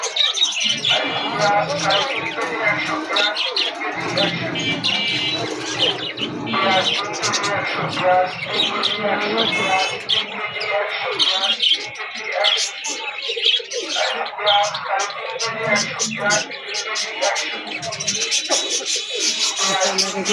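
Pigeons of a high-laying breeding pair, kept for sale and sitting on eggs, coo and chirp steadily throughout, close by and fairly loud, with someone talking over them much of the time.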